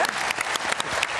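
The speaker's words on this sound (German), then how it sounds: "Herzlichen Applaus" Audience applause at an evening presentation event, a dense steady patter of clapping filling the whole short stretch, fairly loud and close.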